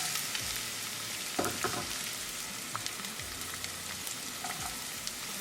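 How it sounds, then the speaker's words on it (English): Onion sautéing in a pan, a soft, even sizzle with a few light taps and scrapes of a utensil, fairly quiet and close, no talking. "we're going to saute our onion for 2 to 3 minutes"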